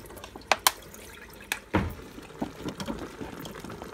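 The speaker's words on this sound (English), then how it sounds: "I'm going to drain this first." Liquid from a can of potatoes drains into a kitchen sink while cooking Cuban boliche, a roast beef stuffed with chorizo, heard as a few sharp drips and splashes followed by a brief pouring gush, close and fairly quiet.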